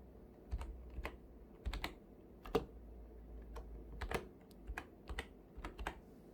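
Typing on a computer keyboard to enter a file name: quiet, close key clicks in short irregular bursts with brief pauses, no voices.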